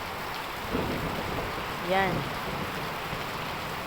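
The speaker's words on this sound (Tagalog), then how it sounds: "Maraming ulan sa labas." Heavy rain pours down outdoors as a steady, dense hiss that stays even throughout, with a brief voice speaking once near the middle.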